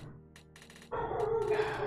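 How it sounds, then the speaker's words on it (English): Several dogs bark in short bursts at a distance at first, then grow louder and closer in a rough, overlapping chorus, with a constant low background hum underneath. "Sorry about the dogs. I really don't know what's wrong with them."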